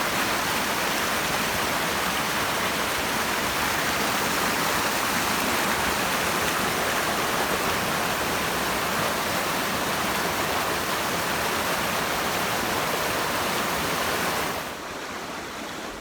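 A fast-running river rushes steadily in a continuous broadband wash, loud and close, and drops off abruptly near the end.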